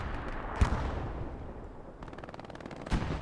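Machine gun fire rattles in rapid, evenly spaced bursts during a competitive Hell Let Loose match on the Utah map, mid-distance and moderately loud, with heavier booming impacts and explosions punctuating the stream.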